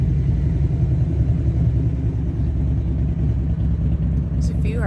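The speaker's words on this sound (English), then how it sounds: "There's another motorbike." A motorbike rumbles steadily past nearby outdoors in a town, a continuous low engine drone that stays loud throughout with a faint voice at the very end.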